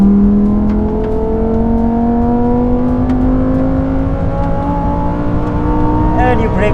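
A Lamborghini Huracan Tecnica accelerates hard along a circuit straight, its engine note climbing steadily in pitch as a loud, close, continuous roar with an upshift near the end.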